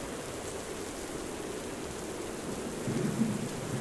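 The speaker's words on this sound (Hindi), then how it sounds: "तेज बारिश शुरू हो गई।" Heavy rain pours steadily in a thunderstorm, a dense even hiss with low rumbling thunder swelling near the end, no voices.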